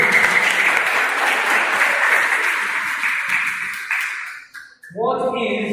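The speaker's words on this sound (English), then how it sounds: "Big round of applause, please." Dense audience applause at a family quiz event, loud and sustained for several seconds before tapering off, then a voice begins talking.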